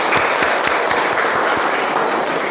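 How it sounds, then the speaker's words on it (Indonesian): A high school class in an Islamic religious education lesson breaks into quick, loud applause, a dense close burst of clapping with sharper individual claps standing out, brief and with no talk. "Tepuk tangan untuk kita semua."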